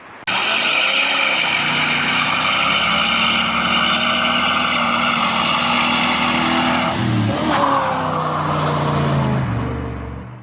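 A 1982 Chevrolet Camaro Z28 engine running hard and loud, sustained roar with tire squeal, a shift-like dip near seven seconds before fading out.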